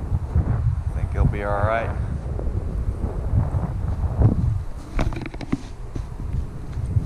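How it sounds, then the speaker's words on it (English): Wind at Wilson's Cut in Port Aransas buffeting the microphone in gusty, rumbling low bursts throughout, with someone speaking briefly and a short squeaky sound early on. "A little windy."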